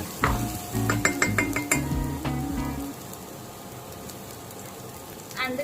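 Ginger, garlic and green chili paste goes into a pan for Karamati kofta gravy: a run of metallic clinks and spoon-on-pan knocks, then a steady hiss of frying that continues quietly alone to the end.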